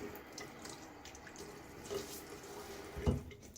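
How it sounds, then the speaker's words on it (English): Water splashes and runs at a bathroom sink as a face is wetted before a wet shave, a soft steady trickle with a brief louder splash near the end. "Alright, we'll water my face again."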